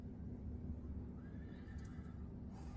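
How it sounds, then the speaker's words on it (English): Horses whinny and shift about in a quiet scene before a battle, a faint neigh rising over low rumbling movement and soft hoof clopping, with no talking. "Everything's silent except for the movement of horses."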